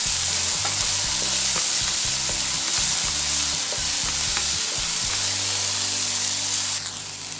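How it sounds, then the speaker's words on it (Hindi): Potatoes and green peas frying in a pan while being stirred with salt, a loud steady sizzle broken by repeated scraping stirs, close up with no speech. "नमक को हम अच्छे से आलू और मटर में मिला लेंगे।"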